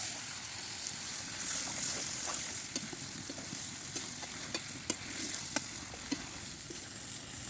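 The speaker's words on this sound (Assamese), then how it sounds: "এতিয়া মাংসখিনি ভালকৈ ভাজি ল'ম।" Chicken pieces fry in a pan with browned onions, a steady sizzle broken by the scrape and clack of stirring at irregular intervals.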